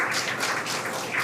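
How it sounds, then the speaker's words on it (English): A crowd at SpaceX Mission Control in Hawthorne applauding and cheering, a loud, steady wash of clapping with no break. "The crowd here at Mission Control in Hawthorne cheering."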